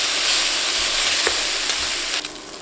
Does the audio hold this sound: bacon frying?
yes